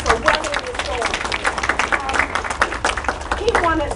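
A poetry reading audience applauds with lively, dense clapping, while voices and crowd chatter carry under and over the claps the whole time.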